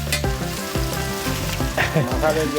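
Curry leaves and shallots sizzle in coconut oil in an iron pan, a steady close frying hiss with a few stirring clatters and a background tone running throughout.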